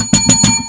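A bright bell sound effect rings three quick times in a row, loud and close, with clear sustained overtones and nothing else around it.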